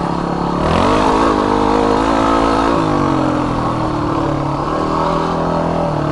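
SWM off-road motorcycle engine revving during a test ride on dirt terrain, a loud steady mid-pitched drone with rising and falling pitch sweeps, close and continuous without talk.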